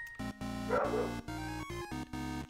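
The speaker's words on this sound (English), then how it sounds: "Doug probably found a cat. Otherwise, he wouldn't bark the way he does." Doug, a dog, barks in a rapid run of short, sharp yips and bow-wows, fairly close but modest in level, with brief gaps between bursts.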